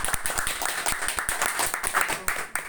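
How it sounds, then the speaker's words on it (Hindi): Audience clapping loudly during a motivational training session in a hall, a dense burst of many hands with voices mixed in throughout. "जोरदार तालियां बजाएं।"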